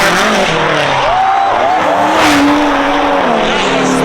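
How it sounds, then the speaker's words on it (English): A drift car at a wide-course event screams through a slide with its engine droning hard and tires squealing in long wavering tones, loud and continuous for about four seconds, close to the listener. "This is one of the most fun I've ever had drifting."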